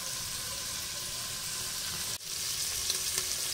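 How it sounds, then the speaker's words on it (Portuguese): Half a calabresa sausage frying in a pot for a bean dish, a steady close sizzle and crackle with a brief dip in the middle, no talk. "vamos colocar metade da calabresa e vamos deixar fritar esses dois ingredientes"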